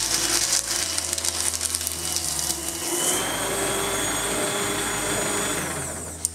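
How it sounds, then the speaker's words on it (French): An AmazonBasics paper shredder feeds a sheet of scrap paper through, a loud steady motor whir with grinding cutting noise that runs for several seconds, then ends on a faint click. "Et le broyeur s'arrête automatiquement"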